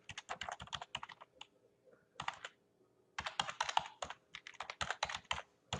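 Someone types on a computer keyboard in bursts of quick, crisp key clicks, close and fairly quiet, with short pauses between the runs and no talking.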